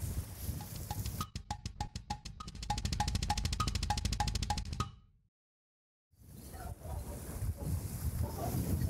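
Wind gusts rush and buffet loudly against the microphone while windsurfing, a broad roar with rhythmic flapping or slapping pulses, then a brief cut before the wind noise returns.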